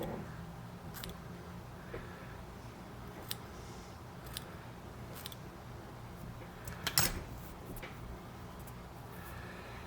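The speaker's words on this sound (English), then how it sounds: "I'm going to take my scissors at an angle, basically keeping the same shape it is now" Dull scissors snip fly-tying material, trimming a baitfish fly, giving a few faint, sparse clicks and cuts in a quiet room.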